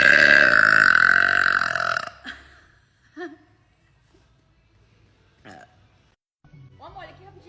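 A baby girl lets out one long, loud burp lasting about two seconds, followed by a few faint small throaty sounds and near quiet.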